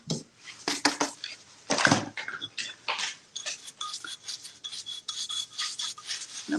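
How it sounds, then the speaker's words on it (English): A paintbrush loaded with paint is dabbed and scraped against a cardboard box to offload the excess, giving a run of close, dry, rasping brushing strokes in an uneven rhythm with no talk. "I am going to use this box right here just to get the excess off."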